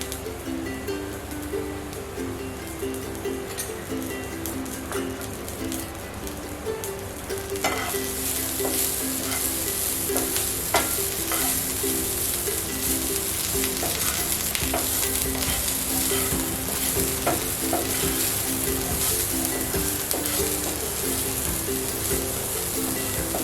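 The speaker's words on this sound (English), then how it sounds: "Keep on stirring so that it don't turn to black or something" Sweetcorn with coriander frying in a pan, a continuous crackling sizzle that grows louder and brighter partway through as it is stirred, with scraping stirs throughout.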